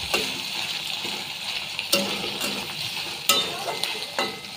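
Onions frying in a pan for mutton biryani, a steady close sizzle with occasional stirring clatters and spoon knocks against the pan.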